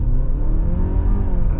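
Hyundai Palisade 2.5T hybrid accelerating hard on a wet road, a loud steady engine drone with rising whir heard from inside the cabin, sustained throughout.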